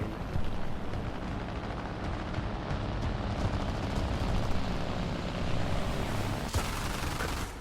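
A P-39 propeller fighter drones loud and near in War Thunder, its steady engine roar filling the whole stretch, with rattling bursts of gunfire mixed in.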